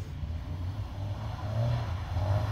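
A Mazda car engine drones and revs while the car drifts, a low rumbling exhaust note held steady at moderate distance and swelling slightly toward the end, with no talk.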